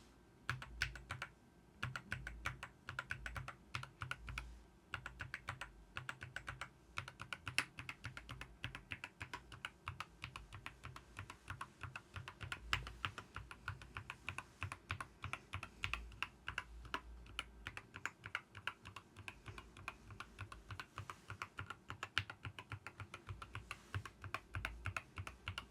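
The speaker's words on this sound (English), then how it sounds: "You got a sense now of the sound of the keyboard, right?" A Keychron K2 HE keyboard is typed on in a steady stream of soft, quick keystrokes with short pauses, close and fairly quiet.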